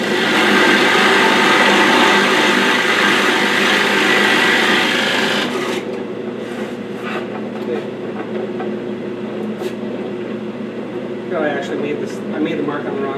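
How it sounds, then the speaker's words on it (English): A drill bores a half-inch counterbore in wood, giving a loud steady grinding whir that lasts about five seconds and then cuts off, followed by quieter handling noises and rustling. "I'm ready to cut, or drill I should say, on my counter bore."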